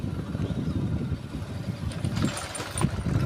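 A motorcycle engine drones steadily while riding through a village area, with a low continuous rumble and wind noise, plus faint higher clatter toward the end.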